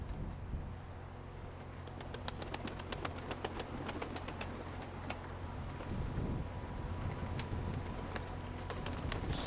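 Soft low cooing of pigeons nearby, mixed with ticking clicks and a steady outdoor rumble, no voices.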